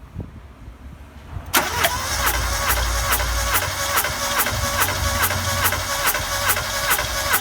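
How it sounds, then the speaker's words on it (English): A 1.6 car engine cranking on the starter during a cylinder compression test, quiet at first then abruptly starting a loud, rhythmic, even chugging that continues steadily to the end, close up with no talk. "So this is doing a compression test."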